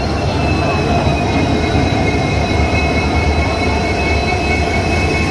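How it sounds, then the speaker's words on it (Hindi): The Bikaner-Puri Express (20471) pulls into a station with a steady, heavy rail rumble, while thin, high wheel squeals ring over the top throughout. "फाइनली हमारा ट्रेन आ गया।"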